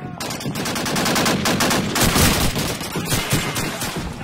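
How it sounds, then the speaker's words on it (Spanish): Sustained automatic machine-gun fire from the World War II shooter Call of Duty 2, loud and dense with rapid overlapping bursts filling the whole stretch, no pauses. "¡Abran fuego sobre aquellos tíos!"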